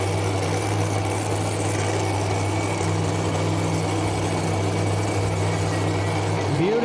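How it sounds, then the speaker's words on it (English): Idling engine of a Chevy Colorado pulling truck at a Pro Pulling event in Mt. Sterling, Illinois, a steady deep rumble with strong low harmonics holding loud and even throughout, with a brief pitch shift near the end. "So this is Michael White, the truck they call Addiction."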